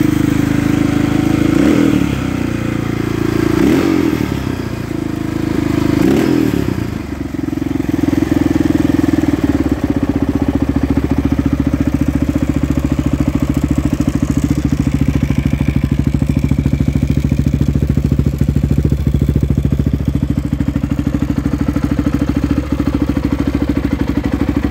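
A Honda XR650R motorcycle engine runs loud and close, revving in a few bursts early on before settling into a steady, slightly uneven thumping idle.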